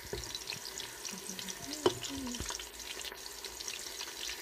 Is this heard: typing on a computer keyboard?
no